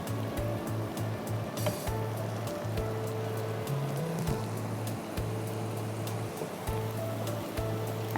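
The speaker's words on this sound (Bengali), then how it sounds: "পেঁয়াজটা একটু ভাজা ভাজা হয়ে নিক তেলে" Onion paste frying in hot oil in a home kitchen, a steady soft sizzle under a low continuous hum, with no one speaking.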